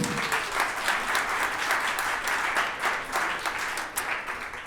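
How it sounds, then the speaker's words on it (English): An audience at a Latitude59 event claps for the volunteers and technical team, a full, continuous round of applause that holds steady throughout. "So please give them a round of applause."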